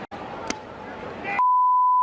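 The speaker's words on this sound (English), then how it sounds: "I think they beep it here" A steady, high-pitched censor beep cuts in abruptly after a burst of noisy chatter and holds unbroken to the end.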